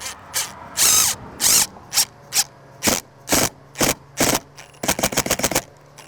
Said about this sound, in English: I'll put one screw right in the middle. These are PVC trim screws.